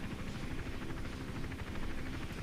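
A helicopter in the stealth video game Hitman Absolution drones steadily, a dense rotor chop and engine roar holding at an even, moderate level throughout.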